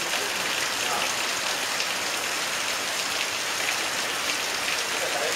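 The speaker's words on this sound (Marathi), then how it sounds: "कोकणातला पाऊस तुम्हाला आता पाहायला मिळतोय" Heavy rain falls in Konkan, a dense, steady roar of drops drumming on surfaces that stays constant throughout with no speech.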